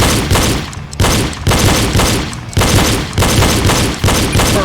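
Rapid pistol shots fired during a shooting drill, loud and close, in several dense bursts separated by brief pauses, with no talk over them.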